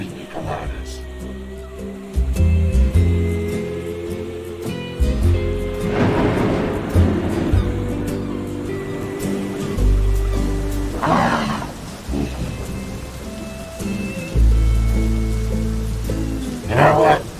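Steady rain falls on a surface, a continuous patter with shifting intensity and occasional low rumbles throughout, with no voices.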